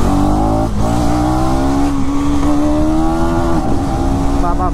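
A 2025 KTM Duke 250 motorcycle engine revs loudly and close, its pitch rising and falling through a continuous buzzing drone.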